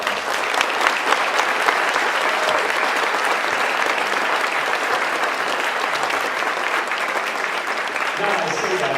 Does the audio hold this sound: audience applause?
yes